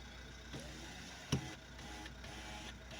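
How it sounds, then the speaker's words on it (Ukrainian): On a damaged Nissan X-Trail, the electric side mirror motor gives a few short, faint whirring bursts, with one sharp click in the middle, against a quiet background. "Дивимося, що працює дзеркало."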